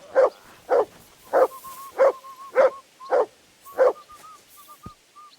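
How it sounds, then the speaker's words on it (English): Mutt, the dog in Kingdom Come: Deliverance 2, barks seven times in a steady rhythm, each bark loud and close. A faint high chirping carries between the barks. "Good dog, Mutt."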